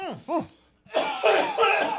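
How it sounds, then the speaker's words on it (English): Two short voiced sounds, then a burst of rough, breathy coughing that trails on for about a second, close and fairly loud. "It's coughing season, too."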